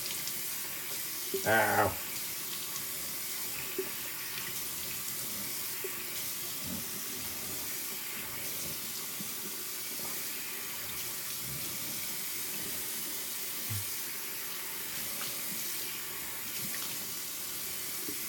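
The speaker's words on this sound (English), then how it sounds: "excuse me for a second while I rinse off the dome" Tap water running steadily as a shaved head is rinsed, a soft continuous splashing wash throughout, with a short vocal exclamation near the start.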